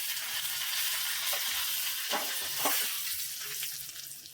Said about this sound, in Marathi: आणि 1 सुकी लाल मिरची घालणार आहे।